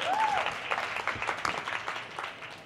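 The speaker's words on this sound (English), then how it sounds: "Clap it up for gratitude" Audience applause fills a lecture hall on diet and health, a steady dense clapping at moderate volume that runs throughout, with a brief voice or whoop rising over it near the start.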